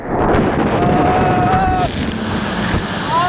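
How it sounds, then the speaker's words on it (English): The Yuta Falls log flume boat at Lost Island Theme Park in Waterloo rushes into the water with a loud, sustained roar of spray and wind buffeting the microphone, then the noise gradually settles. "It's pretty good of a splash"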